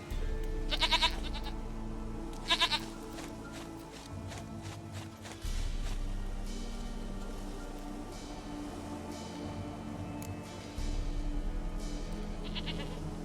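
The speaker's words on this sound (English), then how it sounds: "Goat of mine, dearest, sweetest goat." A goat bleats in The Witcher 3: Wild Hunt, a few short bleats standing out over a steady low game ambience with light footsteps.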